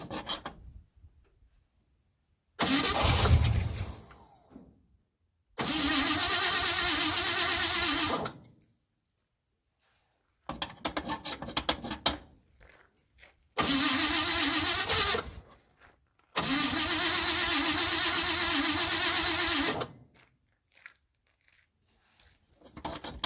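The engine of a 1957 Chevy 5400 truck with a newly rebuilt electrical system cranks in repeated grinding bursts of a few seconds each, separated by silent pauses. The starter whirs and churns loudly up close.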